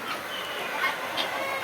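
Tithir chickens (guinea fowl) at a poultry farm in Bakshiganj, Jamalpur, clucking in a dense, continuous chatter with brief louder peaks, no voices over them.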